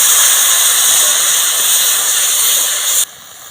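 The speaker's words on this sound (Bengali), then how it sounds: "মশলাগুলো ঝিঙের সঙ্গে নাড়াচাড়া করে নিচ্ছি" Ridge gourd frying in mustard and turmeric spice paste gives a loud, steady hiss of sizzling close up that cuts out abruptly near the end.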